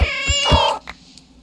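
Pet cat giving a pitiful, drawn-out meow, one loud close wavering cry followed by a short fainter sound, with no talking.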